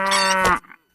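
A single farm cow moos loudly and close by, one sustained harmonic call lasting about half a second before cutting off into near silence.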